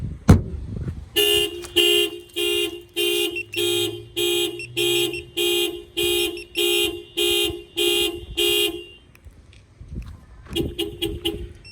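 A Scion tC car alarm blares in a rapid repeating pattern of loud tonal blasts, pauses briefly, then starts again near the end.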